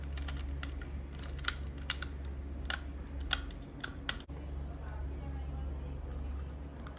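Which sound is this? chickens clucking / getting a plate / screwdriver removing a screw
screwdriver removing a screw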